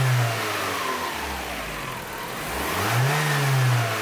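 A 1990 Toyota Camry engine runs up close, revving up and easing back down before climbing again, loud and steady with no talk.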